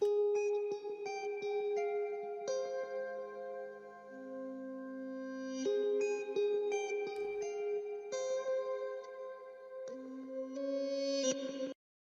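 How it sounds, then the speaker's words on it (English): Clean, chiming guitar notes ring out in a slow arpeggiated pattern, washed in reverb and echo with a spacious, ambient feel. "So after that, I added this clean ambient guitar, which sounds like this"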